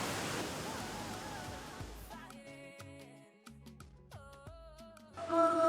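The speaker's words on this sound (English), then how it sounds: "We'll go a little further and we see the waterfall." A waterfall near a cave rushes as a loud, broad wash of water noise for about two seconds, then drops away as tonal music and faint sounds take over.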